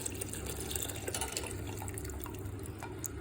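Rice flour stirred into coconut milk is poured into a pan, giving a soft, steady liquid pour with faint drips and splashes, quiet and continuous, with no talk.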